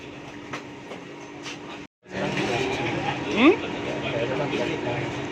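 Steady rumbling and rattling inside a moving Kelana Jaya Line light rail car, with a brief dropout and a short squeal of wheels; a voice speaks over it.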